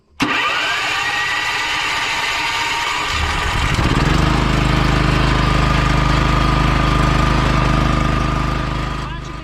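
Petrol-electric generator converted to run on natural gas, cranked and starting up, its engine catching after a few seconds and settling into a loud, steady close-up running drone.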